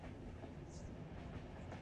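Train ride in the video game Yume Nikki: a steady, continuous rumble of a moving rail carriage with faint clickety-clack, heard quietly and unbroken, with no talk.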